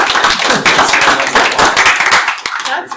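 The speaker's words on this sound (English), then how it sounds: "let's give him a round of applause" A live audience bursts into loud, close clapping that fades toward the end, with a few voices mixed into the applause.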